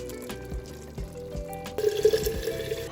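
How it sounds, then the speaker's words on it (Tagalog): Half a cup of water poured into Filipino-style sweet spaghetti tomato sauce in a pot, a short trickling pour near the end amid light kitchen clatter. "Half cup of water"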